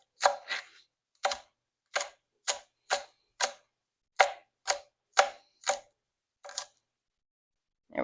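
A knife chops vegetables on a cutting board while preparing bolani stuffed flatbread, giving about a dozen crisp, separate knocks at an uneven, unhurried pace, close and clear against near silence.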